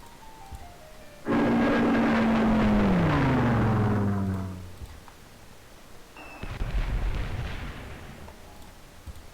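Strategy game audio of a World War II bombing run and artillery barrage in Civilization III: a loud roaring sweep with a descending whine, then a second rumbling burst of explosions a few seconds later.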